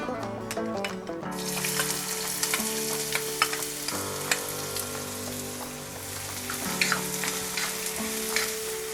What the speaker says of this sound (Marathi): हा कांदा आपल्याला छान मऊ होईपर्यंत असा परतून घ्यायचा आहे